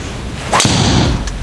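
A golf driver swings in long-drive practice, a quick whooshing swing ending in one sharp, loud crack as the clubface strikes the ball, followed by a brief airy trail.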